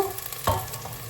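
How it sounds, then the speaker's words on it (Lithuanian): Food sizzles and fries in an overheated pan while being stirred, a steady close crackle with a brief louder scrape of the utensil near the middle. "Reik maišyti, kad nedegtų"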